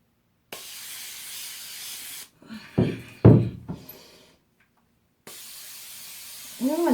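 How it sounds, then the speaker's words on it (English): Australian Gold instant sunless tanner sprayed onto arms in two long, steady hissing bursts from a nearby aerosol can, separated by a few seconds of brief handling noises and quiet. "Spray some on my arms"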